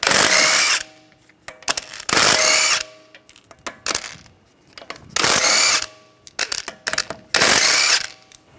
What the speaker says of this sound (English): We're going to remove the wheel, use a 17mm socket,